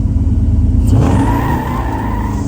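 A 1957 Chevrolet Nomad engine revs loud and close as the car accelerates, with a rising roar and a brief tire chirp partway through.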